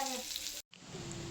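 Prawns frying in hot oil, a loud dense crackling sizzle that cuts out for an instant and then resumes at full strength.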